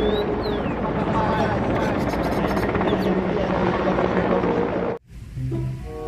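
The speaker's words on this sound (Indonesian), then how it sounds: "ada helikopter tentara, teman-teman." A small toy military helicopter whirs and buzzes continuously at close range, then cuts out abruptly near the end, followed by quieter tones.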